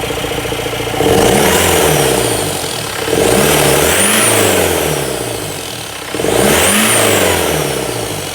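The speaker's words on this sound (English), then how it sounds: "we're going to give this a test here on the dyno and see how it performs" A Mahindra Roxor with a tuned ECU flash, a prototype full exhaust and a cold air intake revs hard on a dyno, pulling up through three loud, rising runs in succession with brief dips between them.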